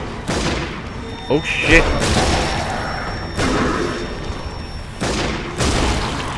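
Gunfire from an M1911 pistol in the Sniper Elite Nazi Zombie Army video game: several sharp broadband shots spaced a second or so apart over a steady game background, with a startled voice exclaiming once.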